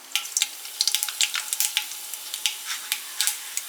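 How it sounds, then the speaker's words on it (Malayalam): Mustard seeds spluttering in hot oil in a pan, a quick irregular run of sharp crackling pops close by over a faint sizzle, no voices. "എണ്ണ ചൂടായി വരുമ്പോഴേക്കും അതിലേക്ക് കുറച്ച് കടുകിടുക."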